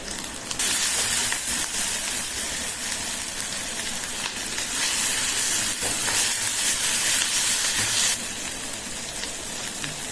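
Ground spice paste hitting hot oil in a pan, giving a loud, steady hissing sizzle that swells midway and eases slightly near the end, with no voices.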